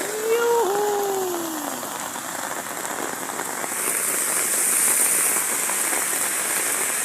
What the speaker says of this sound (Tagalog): Grabe ulan guys, lakas.